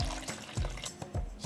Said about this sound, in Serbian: sipam toplu vodu